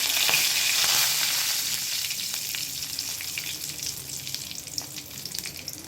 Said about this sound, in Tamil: வெள்ளை எள்ளு, இது நல்லா பொரிஞ்சதும் கொஞ்சமாக கருவேப்பிலை.